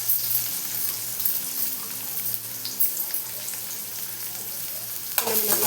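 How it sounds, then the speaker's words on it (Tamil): Garlic frying in a pan for a murungai keerai and egg stir-fry, a dense continuous close sizzle with a steady low hum underneath and a short louder scrape near the end. "இது நல்லா பொரியுதுங்க"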